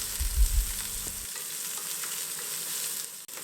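Sliced garlic, chopped onion and curry leaves sauté in hot oil for a chow chow kootu, giving a steady close sizzle with a brief low stirring clatter at the start and no talk.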